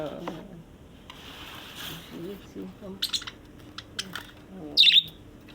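Small birds chirp and tweet in short bright bursts close by, with one louder burst near the end, while a person sings over the top.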